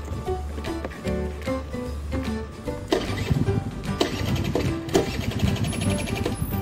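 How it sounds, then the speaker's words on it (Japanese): A Honda Super DIO ZX scooter engine starts and idles close by. A low rumble at first gives way to a busier, uneven putter. It carries on alone. "エンジンも一発始動なんでね、ちょっとかけてもらいたいと思います。"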